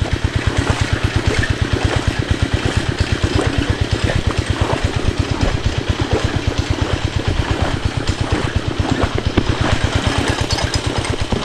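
Close and loud, the engine of a water pump chugs at a fast, even idle-like rhythm to clear standing water after relentless rain, running on without pause.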